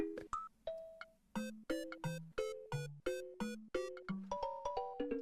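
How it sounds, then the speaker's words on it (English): An incoming-call phone ringtone plays a bright, repeating melodic chime pattern of distinct tones, steady and clear with no talking over it for about five seconds. "Uh-oh, we got a phone call."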